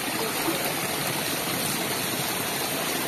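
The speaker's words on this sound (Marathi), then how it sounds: "किती पाणी येते बघा नळावरती" Spring-fed water gushes from an outdoor tap in a Konkan village, a steady, full rushing flow that stays constant and close, with no talking.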